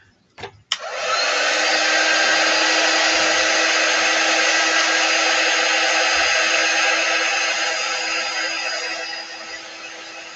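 A hair dryer clicks on and blows a steady, loud whooshing whir while drying paint on an upcycled sign, holding constant for several seconds before easing slightly toward the end.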